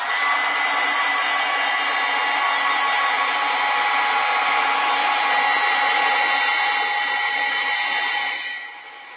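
A hair dryer blows steadily on a watercolor teacup painting, a loud, even whir held close for about eight seconds before it cuts off near the end.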